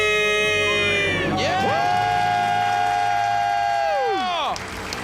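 A small group screams and cheers together in a loud, sustained, high-pitched celebratory shout that holds for several seconds, rising and bending in pitch before trailing off, with voices whooping over it.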